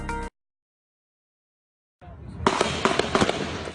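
Rapid gunfire breaks out in Alexandria, picked up on a cell phone as a dense string of sharp cracks and pops after a brief cut-off and a stretch of silence.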